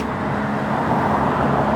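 Dense city street traffic with loud-muffled cars rumbling past, a constant low roar of engines close by with no gaps.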